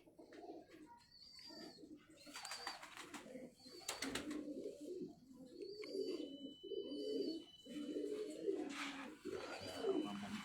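Pigeons of a Mian Sahib pedigree line coo in repeated soft, throaty rolls, fairly close and steady, with brief flutters and faint background noise between calls.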